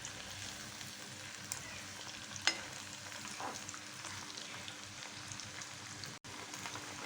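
Fish sizzles and crackles steadily in a hot pan, a soft continuous frying hiss with occasional small pops and one brief clink.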